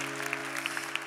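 Brief audience applause at a live concert: scattered claps patter over a sustained low hum for about a second.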